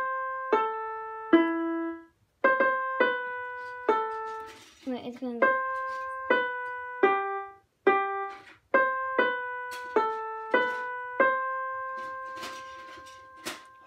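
A piano picks out a melody one clear note at a time, with short pauses between phrases. A voice speaks briefly partway through.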